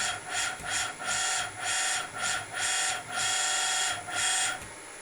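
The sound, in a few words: 1.8 kW AC servo motor driven back and forth by G-code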